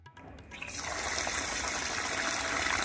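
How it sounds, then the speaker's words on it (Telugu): Rice being washed for vadiyalu: after a brief quiet start, a steady stream of running, splashing water begins and continues close by. "ఇప్పుడు వీటిని వీలైనన్ని సార్లు అంటే ఒక నాలుగైదు సార్లనే బాగా కడగాలి వీటిని"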